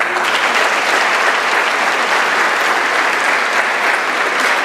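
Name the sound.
applause at a graduation ceremony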